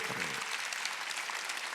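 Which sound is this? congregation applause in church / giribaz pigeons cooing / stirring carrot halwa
congregation applause in church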